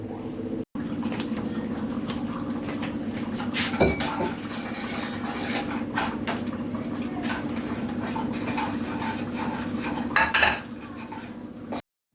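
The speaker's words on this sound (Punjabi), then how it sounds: "ਪ੍ਰਸ਼ਾਦ ਆ ਜਿਹੜਾ ਮੈਂ ਦੇਸੀ ਘਿਓ ਦਾ ਬਣਾ ਰਹੀ ਹਾਂਗੀ" Pots and metal utensils clink and clatter in a home kitchen while prasad is cooked in desi ghee. The scattered sharp knocks sit over a low steady hum.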